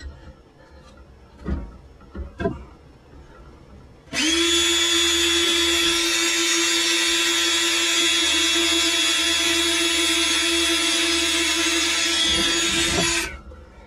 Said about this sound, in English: We're going to drill the hole above the halfway mark of the pipe